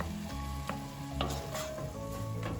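Ground turkey and bell pepper sizzle in a pot for turkey chili soup while a spoon stirs and breaks up the meat, giving a steady close frying hiss with intermittent scraping strokes and no talk.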